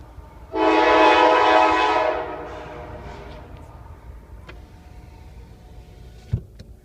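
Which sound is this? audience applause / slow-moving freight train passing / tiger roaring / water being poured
slow-moving freight train passing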